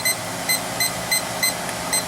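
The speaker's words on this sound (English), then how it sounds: "we'll set the timer for 30 minutes" A kitchen timer beeps during a homebrew beer session, giving a steady run of five or six short, high, evenly spaced electronic beeps over a constant background hiss.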